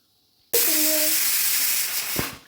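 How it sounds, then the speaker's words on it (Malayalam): A kitchen pressure cooker, cooking for a festive feast, lets off its whistle: a sudden loud hiss of escaping steam with a brief whistling tone at the start, holding steady for about two seconds before fading. "കുക്കർ വിസിൽ കേൾക്കുന്നു."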